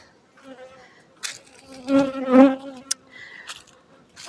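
Honeybees buzz around the hives of a mobile apiary beside sunflower fields, with several close passes rising and fading over a quiet background, the loudest drone in the middle.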